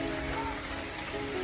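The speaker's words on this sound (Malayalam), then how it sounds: "ഈ ഡ്യൂട്ടി കഴിഞ്ഞ് നല്ല മഴ വരുന്നു" Rain falls steadily on a surface nearby, a dense, even hiss of countless drops with no breaks, fairly loud for its brief span.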